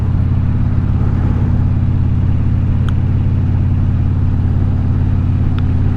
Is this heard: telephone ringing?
no